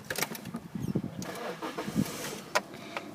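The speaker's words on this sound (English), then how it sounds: "no issues at all starting the vehicle" A Peugeot 206 car cranks and starts after a few clicks and rattles, with the engine catching and settling into a muffled idle, recorded from inside the vehicle at moderate volume.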